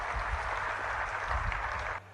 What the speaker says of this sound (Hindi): अरे ताली तो मार दो